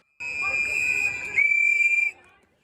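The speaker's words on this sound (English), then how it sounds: "People are heard whistling and honking car horns." Protesters on a Minneapolis street sound a loud, steady high-pitched whistle, later joined by a second sharper whistle tone, over a murmur of crowd noise and traffic.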